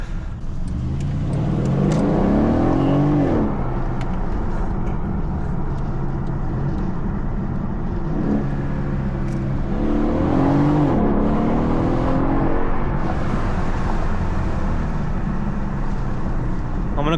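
A Mercedes CLS550 with a resonator delete and X-pipe exhaust idles close by with a deep burble, then revs hard twice, each rev climbing sharply before dropping back to idle.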